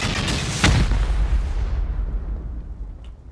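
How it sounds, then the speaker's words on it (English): A rocket explosion against a stone base in a video game: a heavy, loud boom with a sharp crack and a long rumbling decay that fades out. "Can we send 4 rockets? See where that stone goes"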